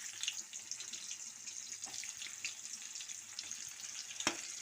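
Onions fry in a pan for a green chilli curry at home, a soft, steady sizzle with light crackles and a sharper clink toward the end, fairly faint and with no talk.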